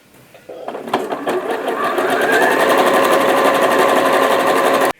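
A sewing machine stitches elastic band onto a cosplay costume, starting with a few clunks and then settling into a loud, fast, even whirring run that stops abruptly near the end.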